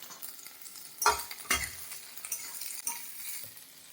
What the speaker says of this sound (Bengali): এরপর ক্যাপসিকামগুলো দিয়ে দিলাম।